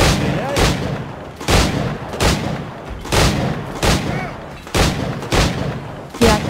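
Gunfire in Assassin's Creed IV Black Flag, set in 1721: loud, evenly spaced shots crack out about every three-quarters of a second over a steady rumbling background.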